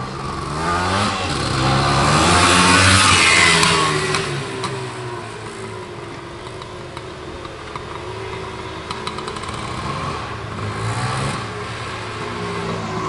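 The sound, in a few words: 1977 Suzuki PE250B two-stroke motorcycle engine revving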